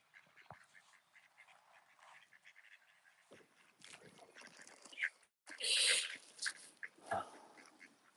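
Ducks quack and chatter close by, with busy overlapping calls and a louder burst of quacking near the end.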